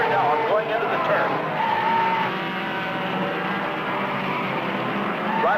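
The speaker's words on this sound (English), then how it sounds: "Listen to the tremendous roar of the crowd as these boys gear down going into the turn." Ferrari race cars gear down into a turn, their engines roaring loud and steady with skidding tires as a crowd roars behind them, while a commentator talks throughout.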